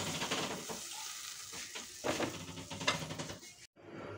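Dry spices and buttermilk sizzle and bubble loudly in a hot pan as they are stirred together for masala aloo gravy, with irregular scraping bursts close by, then the sound cuts off abruptly.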